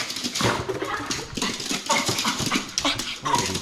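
An excited dog pants, whimpers and yips eagerly while waiting for a cookie after its bath, the sounds close and continuous with bursts of breath.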